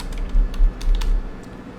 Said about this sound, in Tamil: நான் இந்த இடத்துல டிஜிட்டல் மார்க்கெட்டிங் கோர்ஸ்னு டைப் பண்ணுறேன்.